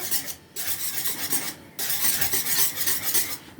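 Batter with a fresh farm egg being whisked in a bowl, a brisk continuous scraping and swishing close up, broken by two short pauses.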